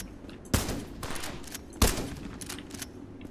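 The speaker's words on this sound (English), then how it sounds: "Shotgun time." Two loud shotgun blasts about a second apart in the video game Metal Garden, each with a sharp crack and a decaying tail over a noisy game background.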